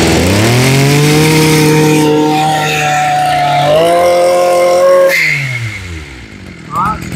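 A small used Japanese grass cutter's engine starts and revs up, a steady buzzing drone rising and falling in pitch, close and loud, with someone talking over it before it drops to idle.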